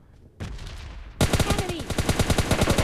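Rapid automatic gunfire in the mobile shooter PUBG Mobile Lite, loud and close, beginning after a short quieter stretch and then continuing as a fast, regular burst of shots through to the end.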